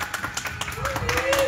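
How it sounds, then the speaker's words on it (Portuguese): At a birthday celebration, a small group claps in quick rhythmic bursts, close and lively, while people talk and a voice carries over the clapping. "Pode bater palmas aí"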